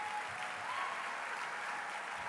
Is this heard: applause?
yes